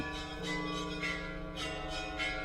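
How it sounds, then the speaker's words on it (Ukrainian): Large metal church bells ring out in overlapping, sustained peals with repeated strikes roughly every half second, loud and resonant with long ringing tones and no talking. "І саме в цей час залунали церковні дзвони."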